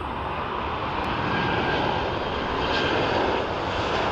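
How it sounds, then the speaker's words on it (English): A Ryanair Boeing 737-800 arriving at Dublin Airport from Alicante, heard as a steady, loud jet engine roar that swells slightly and holds throughout, with no voices. "As we watch our Ryanair come in from Alicante, 737-800."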